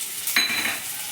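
Onions drop into hot oil in a pan with a sudden loud hiss and settle into a steady close sizzle, with a light stir scraping at the start and no talking.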